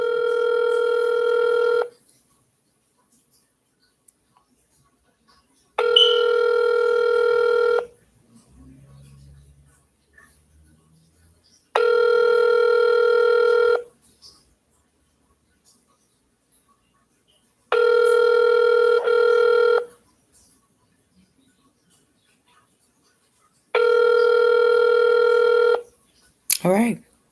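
Phone ringback tone during a transferred call to a hospital line, five evenly spaced two-second rings over a handset with quiet gaps between, a faint noise in one gap.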